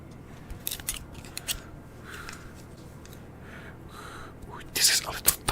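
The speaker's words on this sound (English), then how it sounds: "the grippers, the scrubbers, the scissors" Scissors snip in a quiet ASMR setting: a few crisp, close cuts come in short bursts, with a loud cluster near the end. Soft whispering runs underneath.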